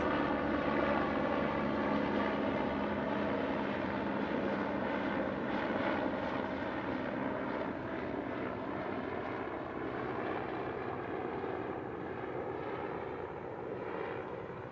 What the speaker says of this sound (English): The police helicopter comes right overhead of me.